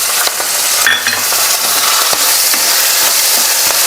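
Curry leaves hit hot tempering oil in a pan, giving a loud, close, crackling sizzle with sharp pops and a stirring scrape, with no talking.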